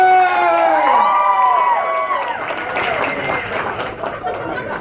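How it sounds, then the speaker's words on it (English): Crowd at an adult variety circus show in a Hooters casino cheers and applauds for a performer, with whoops and chatter rising loud over a strong tonal voice-like sweep at the start, then settling into steady clapping and crowd noise. "round of applause for the naughty professor!"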